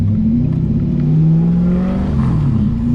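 A V8-swapped 1979 Toyota Cressida wagon pulls away slowly, its low engine drone rising gently in pitch as it gains speed, loud and close, with a steady rumble and no talking.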